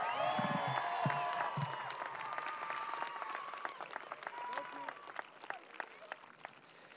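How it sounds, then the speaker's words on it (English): Sustained applause from a high school graduation audience for the Class of 2022, loud at first with some cheering and voices, then thinning into scattered individual claps. "I think she deserves another round of applause."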